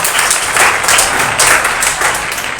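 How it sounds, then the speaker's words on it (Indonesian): Schoolchildren in a classroom clapping together for their teacher: a brief burst of fairly loud, uneven clapping with a few rhythmic swells, close by. "tepuk tangan untuk kita"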